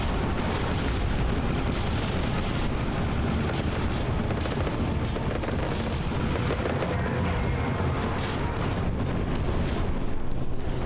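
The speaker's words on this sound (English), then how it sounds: "Pop that fuel tank. Bam, there it is." A fuel tank blows up in the Badlands Crew video game, a dense, sustained roaring blast with rumbling debris that fills the whole stretch at steady loudness, with no voices over it.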